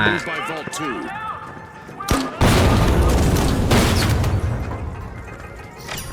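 Gunfire and explosive booms from the video game THE FINALS, loud sharp blasts followed by a dense sustained barrage of shots, mixed with game sounds and faint talk.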